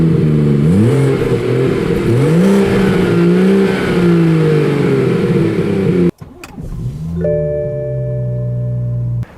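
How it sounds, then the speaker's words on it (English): A 2016 BMW 340i with a manual gearbox and push-button start fires up loudly, its engine revving up and down in rising and falling sweeps before cutting off abruptly, then restarting into a steadier idle. "like all manuals, you have to depress the clutch and put your foot on the brake to start the car, and it's a push button start."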